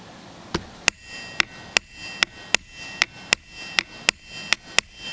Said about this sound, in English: I don't like to bang on my tools like this.